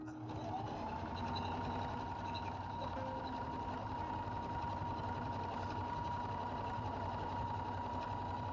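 A sewing machine stitches through quilted purse fabric for a copy of a Vera Bradley bag, running as a steady, continuous motor hum with a whirring mechanical drone that holds close and even throughout.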